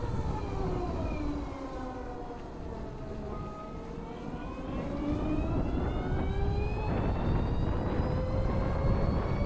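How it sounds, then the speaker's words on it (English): The electric motor of a LiveWire One motorcycle whirs on a mountain ride, its loud tonal whine sliding down and then climbing again as speed changes, with a rushing wind-like roar underneath. "you actually get this nice satisfying whirring sound from this motor"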